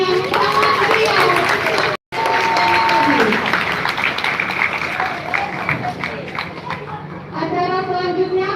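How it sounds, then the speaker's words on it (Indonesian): Audience applause at a Teachers' Day school ceremony, a lively crowd clapping steadily with chatter, briefly cut out near the start and fading with voices toward the end. "Tepuk tangan sekali lagi yang sangat meriah."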